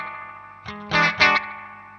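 Guitar played through a Danelectro Spring King Junior spring reverb pedal: a few distorted strums and notes ring out and splash with a springy, wobbling tail, heard alone.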